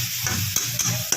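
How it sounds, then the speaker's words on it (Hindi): Onion gravy with ginger-garlic paste being stirred in a pan over high heat, a spoon scraping at a steady rhythm over a continuous close frying sizzle, with no speech. "मैं इसको सब्जी को ग्रेवी को चलाती आ रही हूँ"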